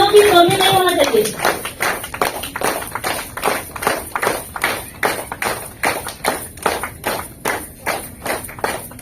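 Audience at a community gathering in Jamshedpur claps steadily for guests, a dense, loud, rhythmic burst of applause that follows a brief voice at the start and continues throughout.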